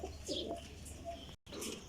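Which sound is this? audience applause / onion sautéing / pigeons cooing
pigeons cooing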